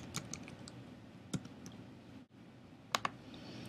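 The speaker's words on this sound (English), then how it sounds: "I'm just going to type in their names" Sparse keystrokes on a computer keyboard entering names into an online group invitation, a few faint scattered clicks with a short cluster near the end over quiet room tone.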